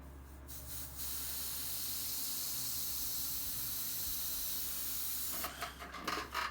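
Airbrush spraying paint to make a bullet hole effect: a soft, steady hiss of compressed air lasting about four and a half seconds, close and fairly quiet, with brief clicks and bursts at the start and end.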